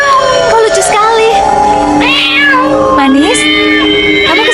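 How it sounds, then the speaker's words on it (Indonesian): A cat meowing in a quiet house, several drawn-out, wavering meows and cries in sequence, loud and close, with a person speaking at moments over them. "Kucing?"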